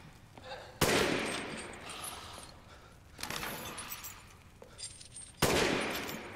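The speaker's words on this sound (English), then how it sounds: "Do we need to fire a bullet through there?" Three loud gunshots in Resident Evil Village ring out one at a time with gaps between them, each a sharp crack followed by a ringing decay, over low ambient game noise.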